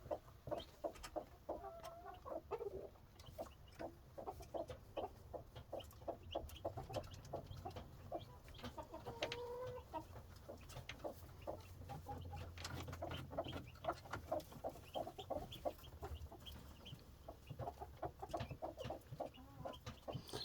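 Hens cluck and murmur continuously inside a chicken coop on a warm day, a steady dense chatter of soft clucks close by, with no talk.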